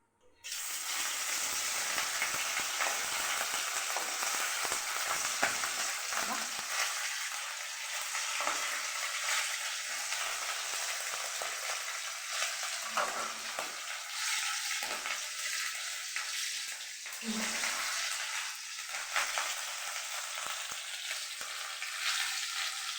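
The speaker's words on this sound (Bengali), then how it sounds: "তেলটা গরম হয়ে গেছে বন্ধুরা, এই যে মাছটা দিয়ে দিলাম" Fish dropped into hot oil sizzles and fries steadily for the whole stretch, a loud close hiss that stays even, with faint clinks of utensils and no talking.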